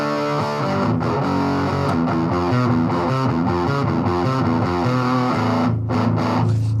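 Electric guitar through a Behringer HM300 Heavy Metal distortion pedal, heavily saturated from the start with chugging riffs and sustained chords, loud and continuous with brief gaps near the end.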